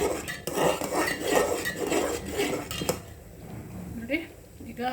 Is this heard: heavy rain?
no